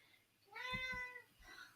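Pet cat gives a loud, drawn-out yowling meow close by, then a second, fainter and shorter meow trails off after a brief pause.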